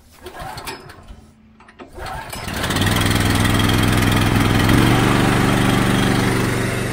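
A pressure washer's small gas engine starts after a brief pause, then settles into a loud, steady idle as it warms up.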